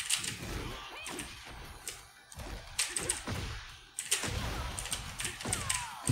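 Computer keyboard keys clacking in quick, uneven bursts during Tekken 8 play, close and moderately loud, with short pauses between flurries and some faint background game noise.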